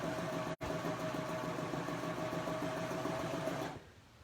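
A serger sewing machine runs steadily while stitching quilt binding, a continuous close mechanical whir broken by one brief stop near the start and ending abruptly near the close, with no talking.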